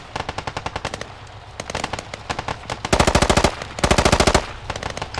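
Automatic rifle fire in the military shooter Squad during an infantry firefight: rapid bursts of gunshots, loud and close, with two heavier sustained bursts near the middle and scattered shots before and after.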